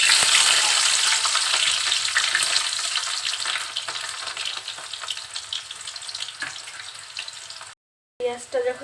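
Raw onion and green chili go into hot oil for a bitter gourd and taki fish curry, setting off a loud, close, continuous sizzle that eases slightly over time. It cuts out briefly near the end, then comes back.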